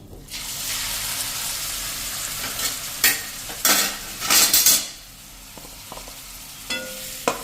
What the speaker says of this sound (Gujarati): અને આને આપણે 1 જ મિનિટ આ રીતે રોસ્ટ કરી લેશું।